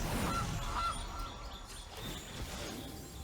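A goose honks twice in quick succession as the Goose card is played in the MTG Arena video game, over a steady background of game music.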